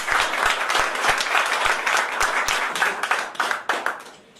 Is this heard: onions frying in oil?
no